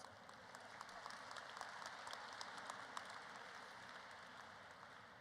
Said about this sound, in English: We can keep the clapping going over and over again.